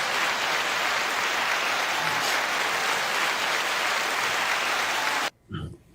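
A podcast studio audience breaks into loud, dense, sustained applause that cuts off abruptly just before the end, followed by a brief faint sound.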